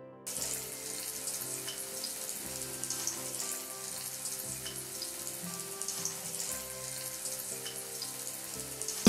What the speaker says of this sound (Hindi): तरह से मैंने कढ़ाई में पकौड़े डाल दिए हैं, बस इन्हें पलट पलट कर फ्राई कर लेंगे